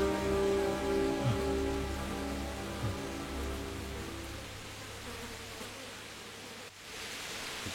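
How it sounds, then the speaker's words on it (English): Rain falls steadily in a video game, a soft continuous patter with a low droning hum that fades partway through, fairly quiet and without voices. "It's raining."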